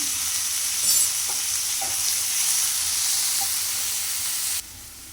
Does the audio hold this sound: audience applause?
no